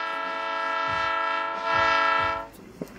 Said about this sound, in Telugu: ఈలోపు ట్రైన్ స్టార్ట్ అయిపోయింది.